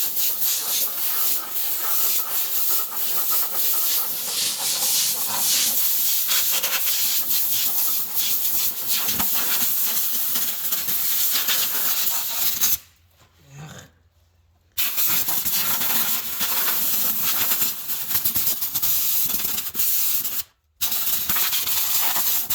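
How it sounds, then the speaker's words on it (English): An air compressor in a workshop where a mini truck is being modified runs with a loud, steady broadband hiss that cuts out abruptly twice, once for about two seconds and once briefly near the end. "I got to go turn the compressor on."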